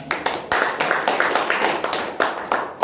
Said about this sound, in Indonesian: Satu tepukan yang luar biasa untuk MC kita.